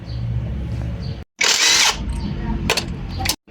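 A power tool briefly drives the brake caliper bolt on a Honda Click 160 rear disc brake during an RCB R55 caliper install, a loud half-second whir after low rumbling, followed by two quick bursts.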